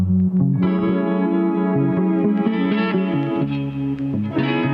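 A prepared synth sample plays without LFO modulation, a steady, loud, continuous sustained tone with shifting pitches and mild distortion and reverb, heard alone.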